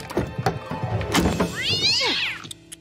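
A cartoon cat lets out a drawn-out, rising and falling yowl after some thumps and scuffling clatter.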